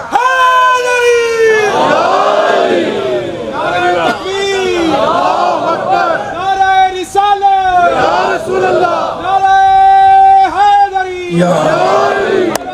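A large congregation at a religious mourning gathering chants a slogan back in unison, loud surging crowd voices in repeated rising calls and responses, filling the space with an echoing roar.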